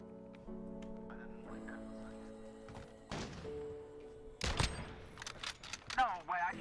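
Gunfire from the online shooter game Modern Warfare, with sharp broadband bursts around the middle and a denser cluster of shots near the end, heard over game music and ambient sound.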